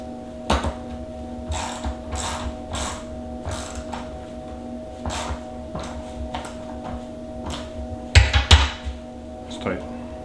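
Nut being tightened onto a rear view mirror mount with a nylon washer for a Polaris Ranger, a series of ratcheting metal clicks at a steady pace, close up, ending with a few louder clanks against a constant machine hum.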